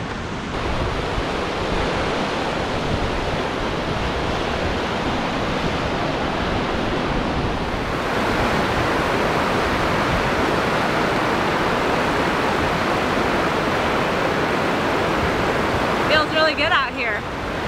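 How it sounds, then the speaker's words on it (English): River rushing past near McCarthy, Alaska, a dense, steady roar of flowing water mixed with wind buffeting the microphone, continuous and loud, with a short faint tonal sound near the end. "Check out the river here."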